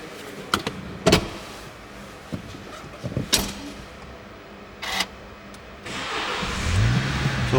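A MINI Countryman Cooper S ALL4 starts up near the end after a series of clicks, thumps and short whirring bursts from inside the cabin, settling into a low, steady engine idle with no talking.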